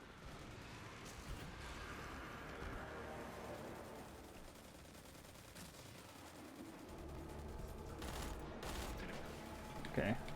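Rapid bursts of gunfire aimed at a portal in the video game Destiny, continuous and dense over a steady backdrop of game noise, with occasional louder reports near the end.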